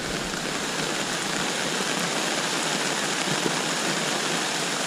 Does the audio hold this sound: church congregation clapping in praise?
no